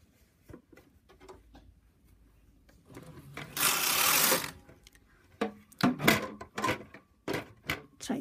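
A knitting machine clatters as the carriage is run across rows: sharp mechanical clicks, then a loud rushing sweep, followed by further bursts of clacking, all close by.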